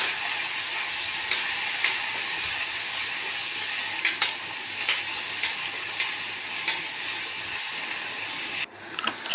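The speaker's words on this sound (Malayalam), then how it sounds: "അതിലേക്ക് തക്കാളിയും അരിഞ്ഞ് വെച്ച മുളകും കൂടി നമ്മൾ ഇട്ട് നല്ലപോലെ വഴറ്റിയെടുക്കുക" Onion, tomato and chopped chilli sauté in a pan for masoor dal, giving a continuous loud sizzle and hiss with occasional stirring scrapes, ending in a brief dip near the close.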